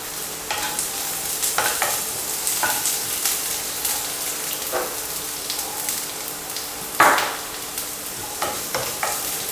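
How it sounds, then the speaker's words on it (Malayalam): Shallots and curry leaves fry in hot oil with popping mustard seeds, giving a steady close sizzle broken by scattered crackles, light stirring clatter and one sharper pop partway through, with no voices. "കടുക് പൊട്ടുമ്പോൾ ഒരു 3-4 കൊച്ചുള്ളി അല്ലെങ്കിൽ ചെറിയ ഉള്ളി ഇതേപോലെ ചെറിയ കഷ്ണങ്ങളായിട്ട് അരിഞ്ഞിട്ട്"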